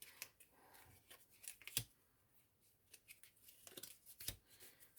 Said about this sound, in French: je vais prendre 3 cartes du petit oracle des sorcières